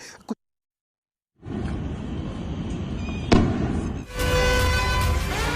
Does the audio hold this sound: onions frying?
no